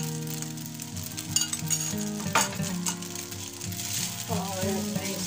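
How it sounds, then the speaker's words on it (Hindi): Chicken and vegetable spaghetti frying in a pan as soy, chili and garlic sauces and vinegar are stirred in, giving a continuous sizzle with stirring scrapes under background music. "और मैं इसको तमाम चीज़ों को बहुत अच्छे से मिक्स करूँगी"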